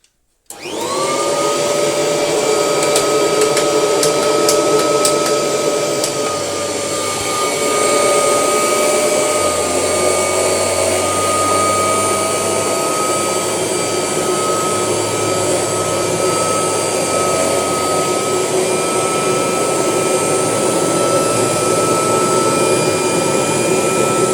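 Beko X1 Automatic vacuum cleaner switching on and running steadily on a piece of abandoned carpet, a loud continuous motor whine with sustained tonal hum, alone without talk.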